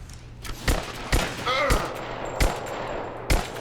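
Gunfire in the video game Rise of the Tomb Raider, several sharp separate shots spaced irregularly over a low steady background, with a brief whooshing effect between them.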